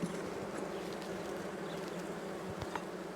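Honeybees buzzing around an open hive frame, a dense continuous hum of many wings close by, fairly quiet and steady with occasional individual bees passing nearer.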